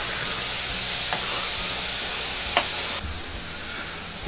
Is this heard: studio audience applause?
no